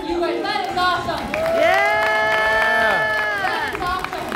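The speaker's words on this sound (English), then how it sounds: "A round of applause for you guys." A sold-out crowd at a wrestling show whoops, shouts and cheers with some clapping, a loud, sustained swell of voices rising and falling across several seconds.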